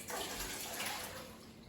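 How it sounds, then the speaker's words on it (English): Water drains off a batch of apples for turnovers, a steady, faint rushing splash that runs throughout and tapers slightly at the end, with no voices. "So I'm gonna drain these apples"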